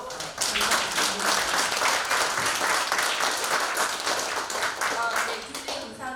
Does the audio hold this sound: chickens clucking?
no